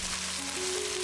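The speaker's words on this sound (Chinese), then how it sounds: "出香味后放入葱段、青红椒，大火翻炒几下， 然后放入生蚝" Oysters stir-fried over high heat in a wok with scallion pieces and green and red peppers, giving a steady close sizzle with a faint tone rising underneath, alone without talk.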